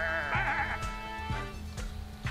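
Sheep in the video game Sheep give several close, clear bleats, one long wavering cry followed by shorter ones, over a steady low game soundtrack.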